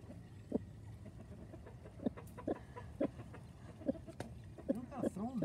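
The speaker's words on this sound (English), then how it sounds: "There's chickens." Chickens clucking nearby in short scattered bursts, fairly quiet, with people talking over the birds.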